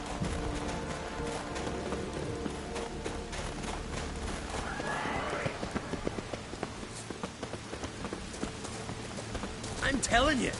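Hooves clip-clop steadily as a large horse gallops in the video game The Witcher 3: Wild Hunt, with a voice speaking and occasional whinnies over a busy game soundscape.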